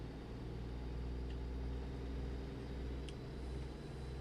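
A Kenworth truck engine in a driving game runs at a steady, low rumbling drone, continuous and fairly loud throughout with no talk.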